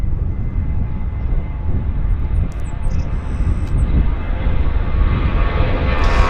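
An airliner takes off at Vancouver International Airport, a loud, steady engine roar with broadband rumble sustained throughout, heard from a distance with no talk.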